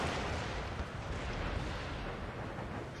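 Musket and artillery fire in Empire: Total War with DarthMod rumbles as a continuous, dense barrage of overlapping volleys and booms, loud and sustained without pause.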